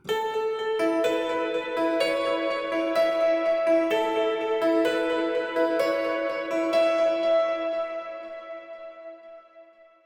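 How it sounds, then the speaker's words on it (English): Synthesizer tack piano notes, played with the mod wheel up, echo and smear together, repeating delays and a reverb wash trailing each struck note, the sound slowly dying away at the end. "with the mod wheel up, it adds kind of delays and reverbs to it."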